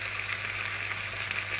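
Pork trotters browning in a frying pan give off a dense, continuous sizzle and crackle of hot oil, close and steady without pauses.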